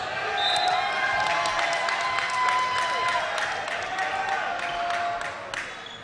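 High school varsity boys basketball crowd in a gym reacting to an air ball with scattered jeers and murmuring, over squeaking sneakers and ball bounces, a steady indoor din throughout.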